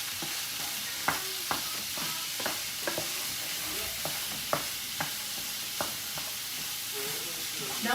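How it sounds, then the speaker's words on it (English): Pork frying in a pan with soy sauce and green onion, a steady close sizzle and hiss broken by scattered sharp clinks and scrapes from stirring, with no voices. "We just cook this until the pork is cooked through, and then from there we will add some soy sauce, some green onion,"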